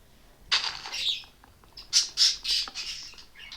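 A bird in the Minecraft video game squawks in a series of sharp, harsh calls, one early burst followed by several close together, loud and alone without any talk.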